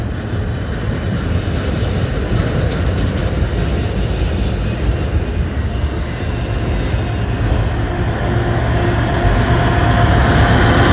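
A Norfolk Southern freight train led by an ET44AC locomotive passes, a loud continuous roar of engine and rolling wheels that holds steady throughout, with no talk.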